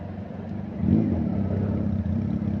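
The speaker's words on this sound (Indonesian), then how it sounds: "ada suara Harley. Tuh, Harley Davidson" A Harley-Davidson motorcycle engine rumbles on a crowded Jakarta street, a steady low growl that swells louder about a second in and holds as it passes nearby amid traffic.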